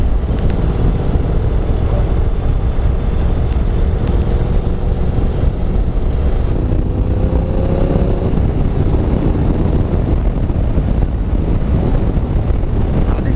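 A Honda NC750X motorcycle cruising along a country road, with a steady engine drone blended with heavy wind buffeting on the microphone and no talking.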